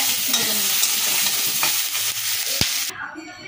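Vegetables with salt and turmeric being stirred in a hot pan for a vegetarian foxtail millet khichdi: a loud sizzle with quick scraping strokes and one sharp knock, then the sound suddenly drops away.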